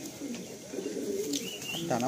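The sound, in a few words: Madrasi pigeons cooing in a loft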